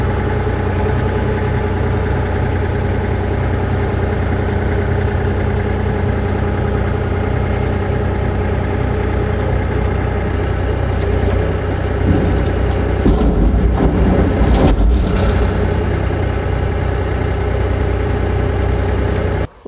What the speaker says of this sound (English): I'm going to attempt to dump this load of dirt into the dump trailer right now.